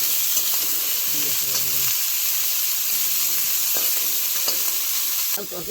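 Food frying lightly in a pan with cumin seeds, giving a steady loud sizzle and hiss throughout with occasional stirring scrapes.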